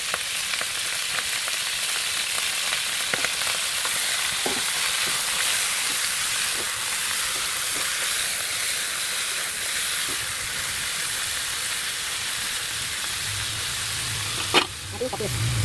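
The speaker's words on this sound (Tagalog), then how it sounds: "Habang ginigisa natin" Chicken sautéing in a pan for sinampalukang manok sizzles steadily and close, with occasional soft clinks of a utensil against the pan. A faint voice sits under it.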